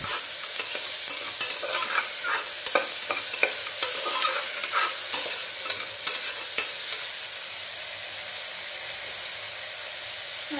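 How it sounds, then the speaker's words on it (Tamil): Vegetable kurma being stirred and sautéed in a pan, with steady frying sizzle and hiss and scattered scraping clicks of a spoon throughout, close and continuous with no talking. "நல்லா அப்படியே வணக்கி விட்டலாம்."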